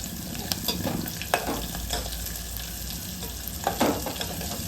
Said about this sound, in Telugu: వెల్లుల్లిపాయలు మంచిగా ఫ్రై అయిపోయినాయి. జీలకర్ర, ఆవాలు కూడా చిట్టపట్లాడినాయి.